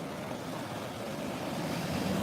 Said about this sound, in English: So at least you guys can watch the waves coming in.